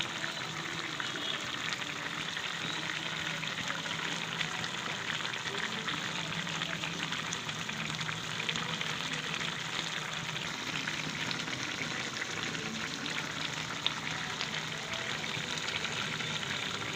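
Tilapia do-peyaja with chopped coriander simmers covered in a pan, a soft, continuous bubbling sizzle holding steady and fairly quiet throughout.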